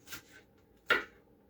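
A knife chops onion in a home kitchen, giving two soft, separate thuds against a quiet background, the second sharper and louder.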